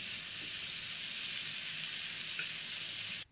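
Battered fried chicken goes into a hot pan for a sweet-and-sour Chinese dish, giving a loud, steady, close sizzle and hiss that fills the whole moment without pause.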